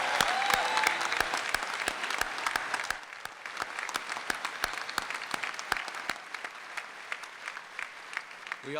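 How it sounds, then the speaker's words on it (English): Audience at a high school commencement applauding teachers and support staff, many hands clapping at first, then thinning to scattered, sharply spaced claps that fade toward the end. "please join me in a round of applause for all of our teachers and support staff that are here tonight"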